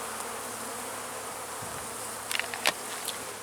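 Honeybees buzzing steadily around hives in an apiary in February, a continuous close drone with a few brief sharper knocks near the end.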